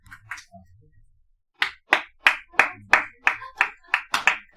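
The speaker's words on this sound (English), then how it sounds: "It does not deserve a clap." A small class claps after a teacher's corny joke in a geometry lesson: a faint pair of claps, a pause, then about ten sharp, evenly spaced claps from nearby hands.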